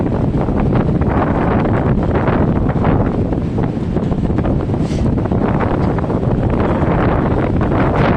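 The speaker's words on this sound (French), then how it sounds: "Powerful winter wind." A strong, cold winter wind roars through the woods, loud and continuous, buffeting the microphone with dense rumbling gusts and no speech.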